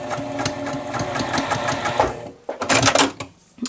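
A sewing machine stitches an improv curved quilt block in a steady rapid rattle, then pauses briefly and restarts with a few short bursts, close and prominent.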